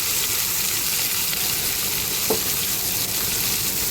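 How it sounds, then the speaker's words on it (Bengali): Potatoes frying with turmeric in a pan, stirred now and then: a steady, close sizzle with a brief scrape of the spoon partway through, and no talking. "আলুগুলো একটু হলুদ দেবো দিয়ে নাড়াচাড়া করবো আলুটা একটু একটু মানে ভাজা ভাজা হবে"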